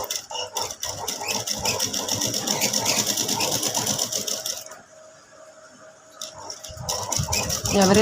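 A sewing machine stitching a halter neck rattles in fast, even bursts, pausing briefly before starting up again close by.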